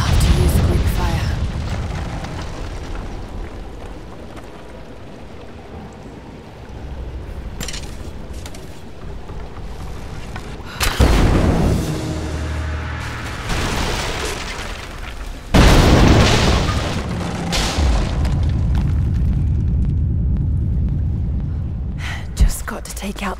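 Greek fire vessels explode in Rise of the Tomb Raider, with two loud booming blasts around the middle and a later burst over continuous game ambience and rumble, with speech in places.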